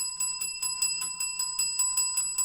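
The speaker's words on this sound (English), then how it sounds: "Y'all stop ringing that bell" A bell rings rapidly and evenly, about a dozen bright metallic dings in quick succession with a steady tone lingering between strikes, close and fairly loud with no talking.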